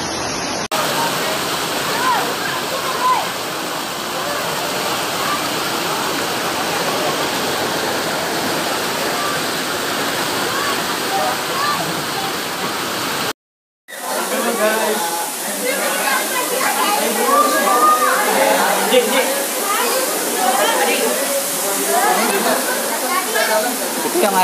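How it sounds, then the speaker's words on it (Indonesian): Cikuluwung waterfall in Pamijahan, Bogor, Indonesia, pours down in a steady, loud, broadband rush that briefly cuts out midway and then resumes with a more splashing, textured tone. "Itu yang air terjun ke bawah tembus ya."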